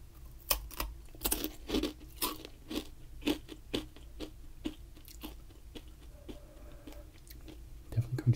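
A crunchy, spicy, bright red Mexican snack is bitten and chewed up close, sharp irregular crunches recurring every half second or so, with a faint low murmur near the end.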